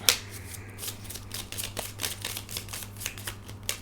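A deck of cards being shuffled: a quick crackling riffle followed by a rapid series of flicks and snaps, with a steady low hum underneath.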